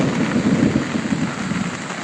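Heavy rain pours at a Cavite farm campsite around a Delica 4x4 camper van, making a dense, steady hiss and low rumble that stays constant throughout with no voices.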